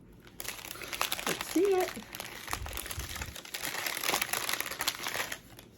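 Packaging crinkles steadily up close while a voice and an adult speaking briefly break in over the rustling.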